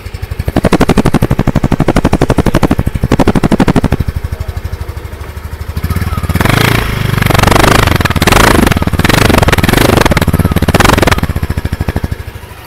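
Exhaust of a 2024 Yamaha Aerox 155cc scooter, very loud and close: a pulsing idle rises into repeated throttle blips and revs that climb and fall several times before settling back.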